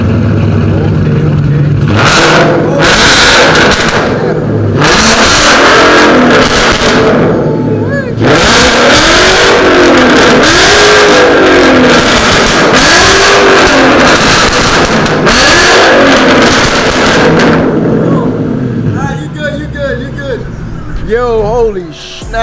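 A car fitted with Kooks 1-7/8-inch long-tube headers revs repeatedly in sharp, loud bursts, its exhaust barking and burbling between blips at close range, while someone talks over it.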